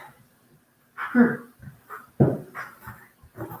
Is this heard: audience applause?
no